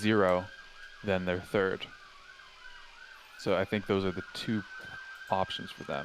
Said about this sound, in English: I'm very sorry if you hear the sirens in the background.